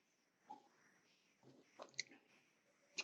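Faint, sparse crunches come from someone biting into crisp, buttery, hot food. A few soft crackling bites are spread over the quiet, with a sharper crunch at the end.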